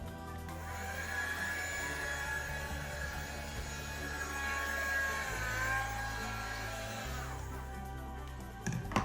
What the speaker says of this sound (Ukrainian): Я сейчас беру фен.